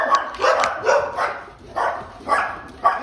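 A golden doodle and a mini poodle bark in repeated yaps, about six sharp barks spaced over a few seconds, fairly close and loud with no talk over them.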